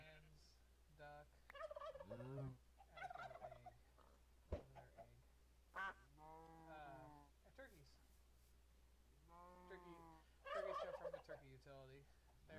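Turkey gobbling in a Minecraft mod pack, a series of warbling gobbles and clucks repeated throughout, fairly quiet, with someone talking over them.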